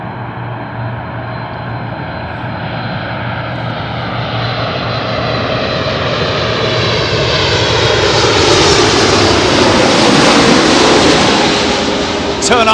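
A jet airliner lands at Anchorage with thrust reversers engaged, a loud close engine roar that builds steadily and swells into a deep, heavy rumble before easing slightly at the end.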